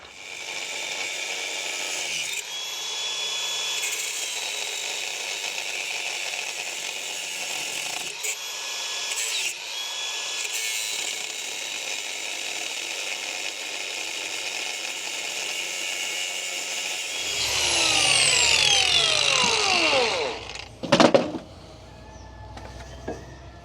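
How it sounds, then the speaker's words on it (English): A cutoff wheel grinds on a 1972 Peterbilt 352 cabover heavy wrecker, a loud sustained high whine with a shift in pitch and a short burst of harsh cutting near the end. "I guess I'll use a cutoff wheel and patience."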